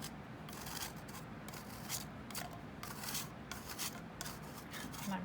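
Food scrapes rhythmically across the coarse side of an all-purpose grater, a rasping stroke repeated about twice a second, close and moderately quiet.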